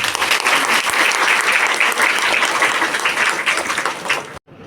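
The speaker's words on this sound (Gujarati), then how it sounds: "ફરીથી જોરદાર તાળીઓ કરો" An audience of people in a hall claps for students in loud, dense, sustained applause that fills the space, then cuts off sharply near the end.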